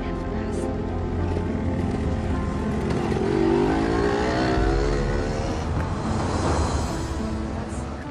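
A car's engine hums and revs steadily as it is driven in to park, a continuous close drone filling the whole stretch with no talk over it.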